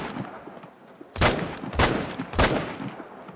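M1 Iwaniec semi-automatic rifle fired in theHunter: Call of the Wild, three loud, sharp gunshots spaced about half a second apart, each with a short echoing tail over a quiet outdoor hum.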